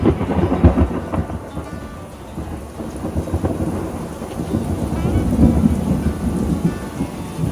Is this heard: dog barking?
no